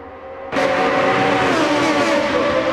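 Open-wheel race cars in a video-game race at Brands Hatch roar past as a tight pack, with a sudden surge of loud, overlapping engine whine that stays sustained and close.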